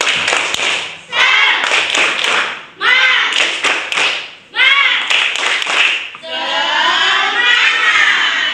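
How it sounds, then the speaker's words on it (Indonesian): A school class doing a rhythmic spirit clap (tepuk semangat): loud bursts of group clapping in patterned sets, mixed with children's chanting voices, ending in a longer shouted group call. "Tepuk semangat dulu yuk."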